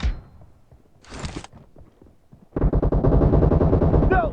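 Automatic gunfire in PUBG Mobile: a soft burst of shots early on, then from midway a loud, sustained run of rapid rounds that keeps going to the end.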